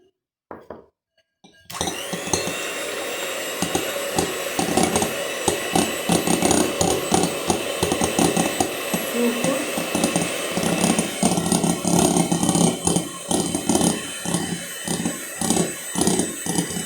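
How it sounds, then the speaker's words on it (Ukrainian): An electric hand mixer whips egg whites with a pinch of salt for a cheese pie. It starts after a short pause and then whirs loudly and steadily, with rhythmic beater clatter against the bowl. "Так, будемо збивати білочки."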